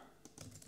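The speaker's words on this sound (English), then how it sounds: "Typing the wrong things in." Quick keystrokes on a computer keyboard, a short burst of several soft clicks close by with no voices.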